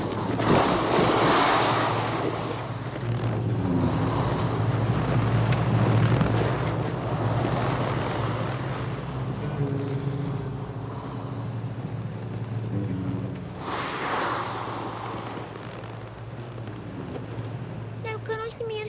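Rushing meltwater from thawing snow in an alpine mountain setting, a broad steady wash running throughout, with voices talking over it.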